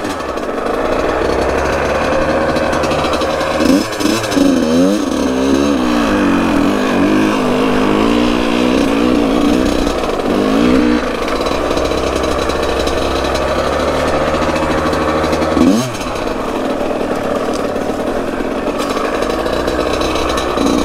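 A Yamaha YZ85 dirt bike engine on a tight woods trail, a loud, raspy two-stroke drone that rises and dips with several quick revs and throttle bogs, heard close and continuous.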